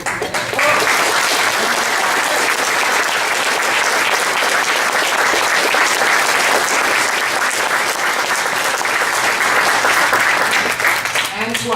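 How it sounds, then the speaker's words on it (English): Sustained loud applause from a large audience, dense clapping that holds steady for the full stretch without letting up. "may I have a nice round of applause for all the people who have"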